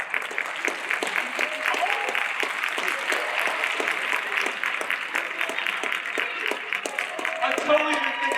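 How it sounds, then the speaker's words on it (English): Crowd applause at a school meeting for incoming students' caregivers, brisk overlapping claps filling the room for several seconds, with a voice speaking over them. "I totally didn't think I was going to get an applause on that one."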